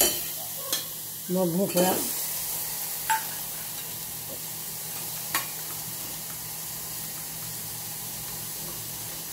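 Vegetables stirred in a steel pot over low heat, giving a steady soft sizzle with a few scraping strokes near the start; someone speaks briefly early on.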